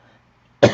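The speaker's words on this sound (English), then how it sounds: "I got a cough again. It's going to hurt." A single sharp cough bursts out close to the microphone after a near-silent pause, loud and abrupt, then trails off quickly.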